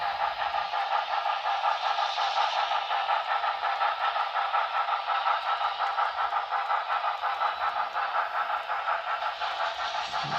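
A model train runs on a layout, a continuous even whirring clatter that holds steady and close for the whole stretch, with no talking.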